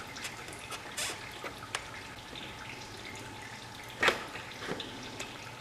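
Coolant trickles from the bottom rubber tube of a Yamaha Raptor 700 ATV into a bucket: a faint, steady dribble with a few sharper drips, including one louder splash partway through.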